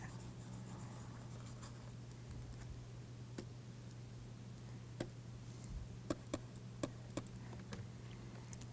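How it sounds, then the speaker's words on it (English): Chalk or pen on a board during a neuronal energy lecture, writing out glyceraldehyde 3-phosphate, heard as faint scratchy strokes and a few sharp taps over a steady low room hum, with no talk. "I think anyway I will write it out completely."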